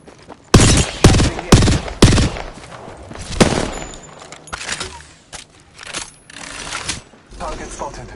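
Gunfire in the Apex Legends video game, opening with four loud, evenly spaced shots followed by a heavier blast, then scattered quieter shots and clatter, with a voice speaking at points.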